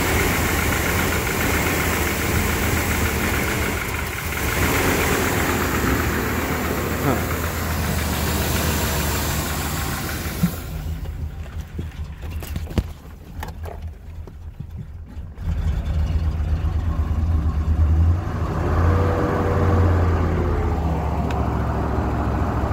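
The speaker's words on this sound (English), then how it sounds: "It's revving up a little, revving a little high. That's coming down now. Ooh, sounds pretty good." A freshly rebuilt Chevy 350 V8 engine rumbles and idles up close, revving higher at times, with a quieter stretch of clanks and rattles before the engine sound returns.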